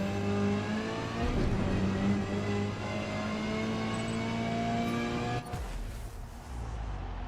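Ford Focus race car engine in Forza Motorsport revving hard and climbing through gears, then cutting off abruptly near the end and leaving a quieter hum.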